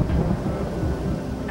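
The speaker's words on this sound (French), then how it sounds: "À cette heure-ci, la pluie inonde les rues de Nikko." Heavy rain pours over the streets of Nikko, Japan, a dense, continuous low roar and rumble of downpour with thunder, steady and loud throughout with no voices.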